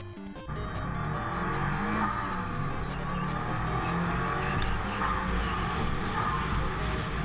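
A Subaru WRX drives along, its engine a steady, continuous drone heard from inside the car at moderate loudness after a brief knock at the start.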